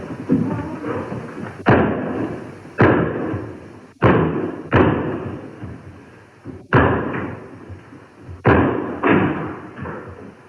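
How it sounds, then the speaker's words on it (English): Heavy repeated kicks against doors during an eviction, about eight loud close thuds and slams at uneven intervals, each followed by a brief rattle and rumble, with no talking. "mule kicking doors open"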